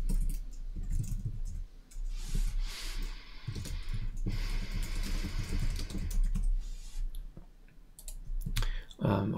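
Computer keyboard typing while building a simple image gallery app, steady bursts of key clicks and clacks running throughout at moderate loudness, with a faint voice in the background.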